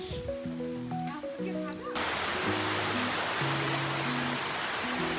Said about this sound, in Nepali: कस्तो हावा मजाले चल्दैछ